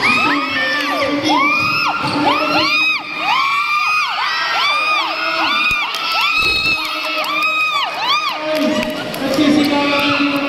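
A basketball league crowd shouts, whoops and cheers loudly and continuously, many voices rising and falling together with excited yells throughout.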